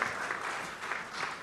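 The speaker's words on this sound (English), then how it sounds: "Let's give a round of applause" Applause from a conference audience, steady and moderately distant, filling the whole short stretch without pause.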